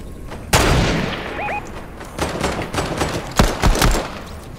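Gunfire from a Fortnite match, a sharp loud shot followed by a run of several more rapid reports, pistol fire among them, close and punchy over busy game ambience.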